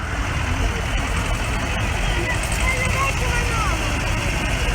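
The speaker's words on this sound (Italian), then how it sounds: "con un trattore Ursus C335 del 1960" A 1960 Ursus C335 tractor running at an agricultural fair's vehicle blessing in Inveruno, its deep, even engine rumble steady throughout with a voice talking over it.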